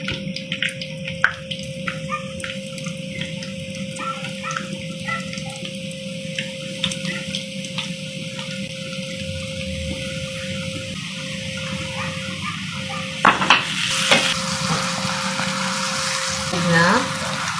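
Chicken intestines fry in oil for a crispy street-food snack, giving a steady, moderate sizzle with scattered pops, then a few louder clatters and a brief swell near the end.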